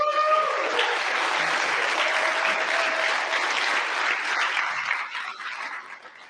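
Sustained applause from an audience at a wildfire crew graduation ceremony, a dense steady wash of clapping that holds for several seconds and then fades toward the end.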